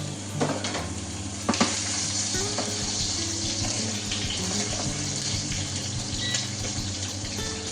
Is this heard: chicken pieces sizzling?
yes